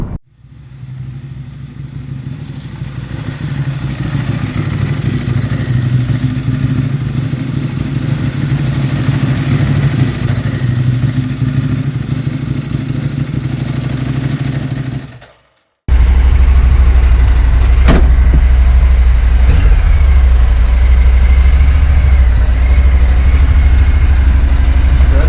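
A motorcycle engine idles steadily nearby for about fifteen seconds beside a toy hauler, cuts off briefly, then resumes as a louder, deeper rumble; a couple of sharp clicks sound over it near the end, with no talk.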